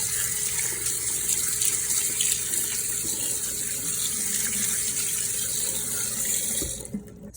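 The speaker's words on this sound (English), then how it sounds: "I'm just gonna wash them right here in the sink." Running water from a kitchen sink tap splashes steadily over beet greens being washed, a continuous bright rushing hiss that stops near the end.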